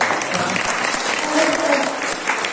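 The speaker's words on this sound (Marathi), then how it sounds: "टाळ्या वाजवा." Audience clapping steadily at a spiritual discourse event in Maharashtra, a dense, continuous round of applause lasting a few seconds with no voices over it.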